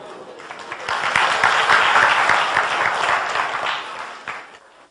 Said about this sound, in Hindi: उनके लिए तालियां।